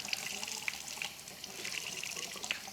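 A makeup sponge is rinsed under a running tap, with water splashing steadily and a few louder splashes as the sponge is squeezed, heard fairly quietly and close by.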